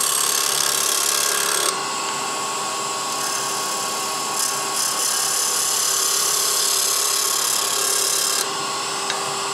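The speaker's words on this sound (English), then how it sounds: "A little shear scraping." A scraper shears across a spinning wooden sphere on a lathe, giving a continuous rasping hiss with slight changes in pressure over nearly ten seconds, fairly loud and alone, over the steady hum of the lathe.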